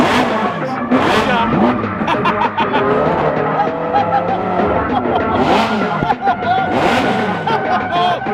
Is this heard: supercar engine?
yes